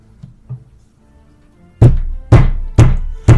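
Knocks land on a door: two faint soft taps, then four loud, heavy, evenly spaced thuds close by, each with a short ringing decay.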